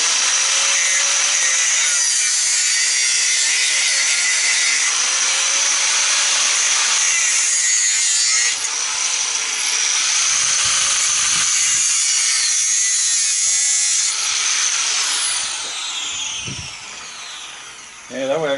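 Steady, continuous sawing on scrap copper from old dryers clamped in a vise, a harsh rasping stroke running the full length with a brief drop near the end; a voice is faintly present.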